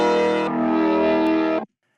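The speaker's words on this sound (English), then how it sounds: "For the main melody, for that sitar, here's what it sounds like without this reverb." A dry sitar phrase with no reverb, a sustained bright plucked tone that shifts pitch once partway through, then cuts off abruptly into silence.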